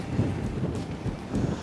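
Gusty wind buffets the microphone while fishing weeds for walleyes on a lake, a low rumbling roar that surges and eases over a couple of seconds, with no talk.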